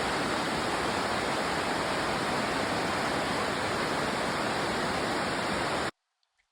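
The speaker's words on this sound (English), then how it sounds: "I finally started to hear the waterfall" A waterfall roars in a dense, unbroken rush of water for several seconds, steady and fairly loud, then cuts off abruptly into silence.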